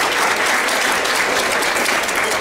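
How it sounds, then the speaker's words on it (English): Audience at an athletic hall of fame banquet applauding, dense steady clapping from a large crowd filling the room, loud and continuous with no voices standing out. "Give yourselves a big round of applause."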